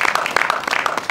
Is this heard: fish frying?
no